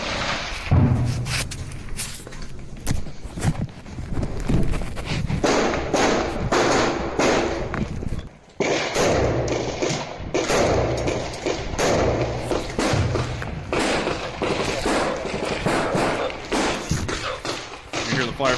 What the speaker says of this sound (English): You hear the firefight still going on.